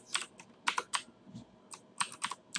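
Close keystrokes on a computer keyboard while working in AutoCAD, a quick word typed as crisp clicks in two short clusters with a brief pause between them.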